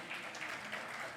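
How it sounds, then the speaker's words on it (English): Brief, soft clapping from delegates at a chartered accountants' annual conference in Kolkata, a short, fairly faint, even patter of applause with no voices over it. "I request you all to please give a big round of applause"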